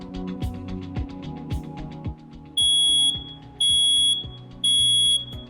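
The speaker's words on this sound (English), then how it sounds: "Test your smoke alarms monthly to make sure they're functioning correctly." A household smoke alarm being tested gives three loud, piercing beeps in an even rhythm, over background music with a steady beat.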